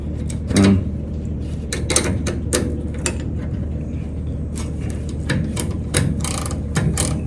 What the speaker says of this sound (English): I'm glad they made these ratcheting wrenches like this